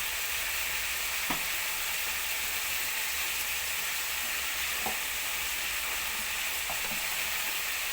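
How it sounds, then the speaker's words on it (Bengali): Potato pieces frying lightly in a pan with salt and turmeric, producing a continuous even sizzle with a few soft taps from stirring and no voices. "তারা প্রথমে আলুটাকে হালকা ভেজে নেব"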